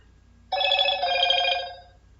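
A mobile phone rings indoors, a bright sustained electronic ring starting abruptly and lasting about a second and a half before fading, loud and close with no talk over it.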